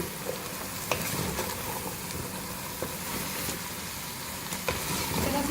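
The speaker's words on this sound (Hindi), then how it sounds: "अब इसको मिक्स करेंगे अच्छी तरह से।" Mutton with cauliflower is stirred and mixed in a cooking pot, giving a dense sizzling hiss with occasional sharp clinks and scrapes of the spoon, close and steady, no speech.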